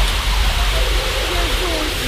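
Flowing stream water in the horror game Demonologist, a steady, loud broadband rush with no break, close and constant throughout.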